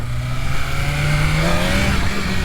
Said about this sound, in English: Do a little wheelie test warm-up.